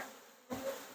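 Faint, continuous buzzing of honeybees in a horizontal hive, a dense hum of many insects close by with no talking.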